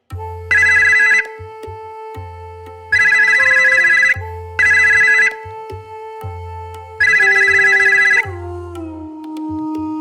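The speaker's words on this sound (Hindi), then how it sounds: "अचानक नीचे वाले टेलीफोन की घंटी बजती है।" A telephone bell rings in four loud bursts separated by short pauses, close and electronic-sounding, with a steady tone lingering underneath.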